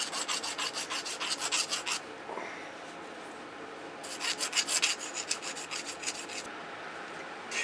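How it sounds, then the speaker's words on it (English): A machined steel steerage bracket for an Allchin traction engine is deburred with a file. Two bursts of fast, rhythmic rasping strokes, close and fairly loud, are separated by a short quieter pause, and no one speaks. "Alright, just deburr that."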